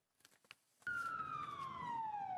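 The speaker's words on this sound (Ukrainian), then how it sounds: "До причалу із сиреною приїжджає швидка." After a few faint knocks, an ambulance siren cuts in loud and close as the vehicle pulls up to a pier in Odesa during an Ebola response drill, a steady wailing tone sliding slowly lower.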